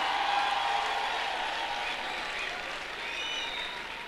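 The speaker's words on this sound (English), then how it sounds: "Stand up and give them a big round of applause." Steady, sustained applause from a large audience at a college graduation ceremony, honouring the teachers, dense and even throughout with a faint crowd murmur.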